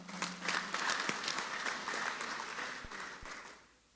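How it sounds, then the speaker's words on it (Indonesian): Audience applause at a university rector's speech ceremony, a crowd of hands clapping fairly far off and moderately quiet, with faint voices mixed in, fading out near the end. "Mohon tepuk tangan untuk beliau semuanya."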